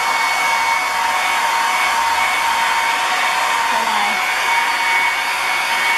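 A hair dryer blows steadily and loudly on a DIY pedestal tray made from thrift-store finds, giving a constant close whir and whine that stays unchanged throughout.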